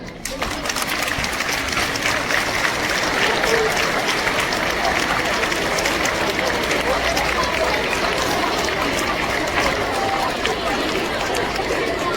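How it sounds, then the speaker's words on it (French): Audience applause welcoming a guest at a school ceremony, steady dense clapping from a large crowd lasting throughout, with chatter and cheering mixed in. "Au nom de Sœur Agnès Thévenet, que nous allons recevoir sous vos applaudissements."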